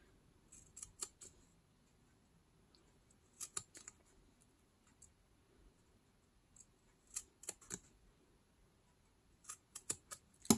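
Scissors snip through an old envelope along a score line and around a curve, making sparse, crisp clicks in small clusters with quiet pauses between cuts.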